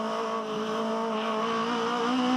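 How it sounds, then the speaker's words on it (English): An Aussie Racing Car with a sequential gearbox and a high-revving Yamaha motorbike engine races at Winton; a steady, sustained high-pitched engine drone holds near-constant revs throughout, with no talk over it. "Sequential gearbox. Yamaha motorbike engine, high revving."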